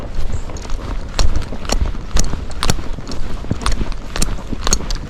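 A gaited horse walking on a sandy trail sets down a steady, close series of crisp hoof clip-clops in an even, regular rhythm with soft ambient noise between strikes.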